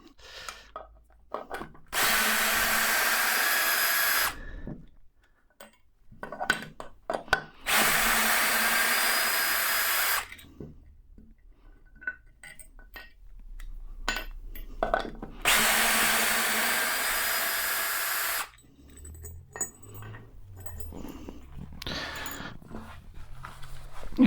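A power drill runs in a woodturning workshop to remove a lathe end plate, in three loud bursts of whirring a few seconds each, separated by quieter handling clatter and knocks.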